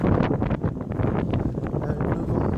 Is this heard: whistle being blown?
no